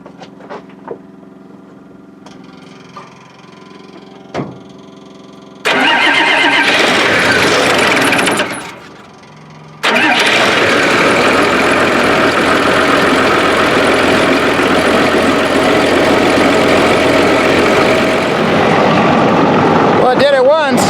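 A Link Belt 2800 crane with fuel system trouble cranks and starts, quiet clicks and a low idle giving way to a loud diesel roar that dips briefly, then catches again and runs steadily, with a voice heard early on.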